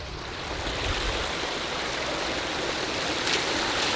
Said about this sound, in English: We got the water going down over the big log right here, pouring down through every angle, around the side, pouring down real fast, through all the logs.